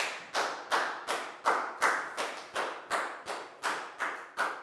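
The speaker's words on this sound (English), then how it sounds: "a big round of applause for Prel" During a Year 4 math lesson, a student is rewarded with about a dozen evenly spaced, quiet claps in a steady rhythmic beat, each one sharp and distinct.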